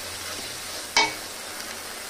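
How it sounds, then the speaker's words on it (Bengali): Ginger, onion, garlic and cumin paste with salt and turmeric fries in oil for a fish curry, giving a constant soft hiss with one sharp clink of a utensil partway through, near and without speech. "আদা পেঁয়াজ রসুন আর জিরে বাটা দিয়ে দিলাম তেলের মধ্যে, দিয়ে নুন হলুদ দিয়ে এবারে মশলাটা ভালো করে কষাবো।"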